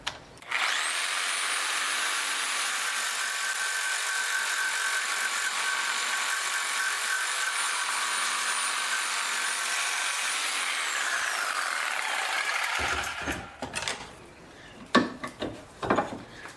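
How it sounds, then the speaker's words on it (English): A big Sawzall reciprocating saw with rough teeth cuts through a metal bolt in one long, loud, steady buzzing run, then stops and is followed by a few scattered clanks and handling noises. "So here's just a big old Sawzall, and it's got fairly rough teeth here, so it's not going to take it easy on this bolt."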